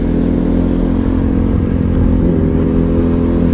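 A motorcycle riding on a road near Kaynaklar, Buca, İzmir, its engine a loud steady close drone with wind rush throughout, no speech.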